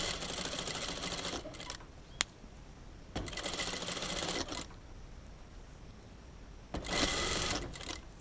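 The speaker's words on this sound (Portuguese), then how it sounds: "vou dar um pezinho de máquina e vou rebater minha costura" A sewing machine stitches a seam in fabric in three rapid whirring runs split by short pauses and a sharp click, close and fairly quiet, with no talk.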